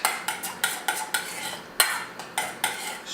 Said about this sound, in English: And we're going to mix that up.